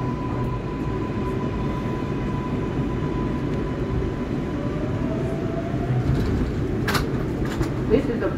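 An R142A 4 express subway train rides along the IRT Lexington Avenue Line, a steady, loud rumble from inside the car with a faint wheel squeal and a brief high tone near the end.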